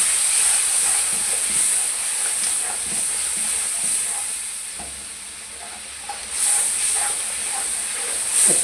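Tomatoes fry in a pot with salt, chilli, turmeric and cumin for Kabuli pulao. They give a loud continuous hiss and sizzle, and faint stirring taps sound underneath.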